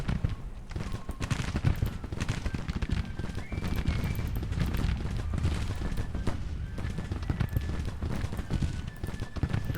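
Musket and rifle volleys from Grand Tactician: The Civil War crackle in a dense, continuous roll of overlapping shots, steady and fairly distant-sounding, with no pauses across the stretch.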